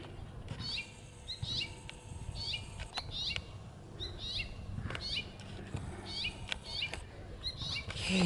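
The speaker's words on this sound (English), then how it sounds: "Let's go over here so Red Belly will stop crying." An injured red-bellied bird gives repeated short, distressed chirping cries at a steady pace, fairly close but not loud, over a low background hum.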